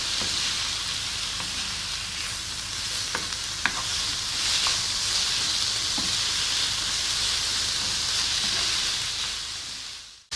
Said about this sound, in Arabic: وغادي نحاول هكا نحركها مع الخضره باش تشحر ليا